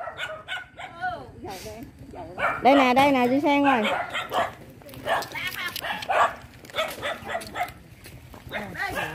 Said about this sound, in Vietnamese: La mấy con chó cô ơi.